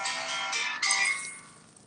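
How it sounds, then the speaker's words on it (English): A mobile phone rings nearby, a bright steady electronic ringtone with tonal bands that swells in two bursts and then fades toward the end, heard alone without talk. "I think Revant's other phone is ringing."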